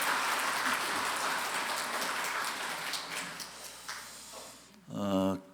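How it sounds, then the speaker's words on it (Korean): A church congregation claps together in broadband applause that fills most of the clip, then fades out. A voice briefly rises at the end. "우리 반가우면 박수 한번 쳐봅시다."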